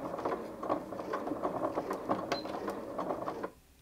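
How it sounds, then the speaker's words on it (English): A Janome 5270QDC sewing machine, started with its start-stop button, stitches in a soft, even mechanical patter close by for a few seconds before stopping abruptly. "I've got the option to sew using the start-stop button"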